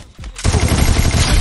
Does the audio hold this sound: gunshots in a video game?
yes